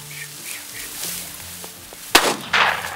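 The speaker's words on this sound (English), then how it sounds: "Shot, Andrew." A single sharp shotgun report rings out during a quail hunt in open country, followed moments later by a second burst of sound, with faint bird calls and light movement noise underneath.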